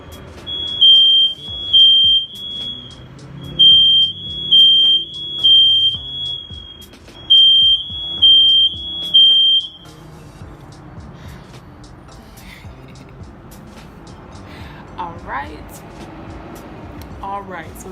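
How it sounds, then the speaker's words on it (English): A smoke alarm chirps in a steady pulsing pattern of high-pitched beeps, loud and close, in repeated bursts for several seconds before stopping, with faint room noise afterward. "the alarm is fucking ringing"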